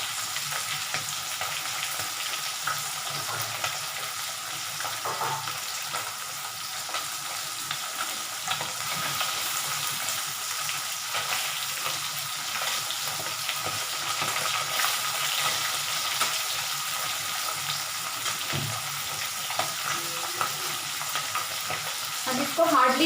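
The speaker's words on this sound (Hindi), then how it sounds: "अब इसको हार्डली हम 2 मिनट्स और फ्राई करेंगे या उससे भी कम" Fish pieces frying in oil for a Bihari mustard fish curry give a steady, dense sizzle that holds at an even level throughout, close and continuous with no voices.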